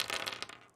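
A rattling clatter of a bag of small adapters spilling onto a tabletop, a dense burst of clicks that thins out within a second.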